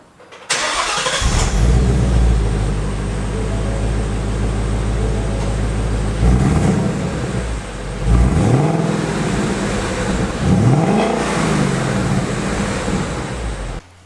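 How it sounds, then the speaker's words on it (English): A Ford Mustang engine starts up close by and runs at a loud, rumbling idle, then revs up sharply twice with rising and falling roars. "we should probably do a startup on it to get the sound clip for the first, what it sounds like"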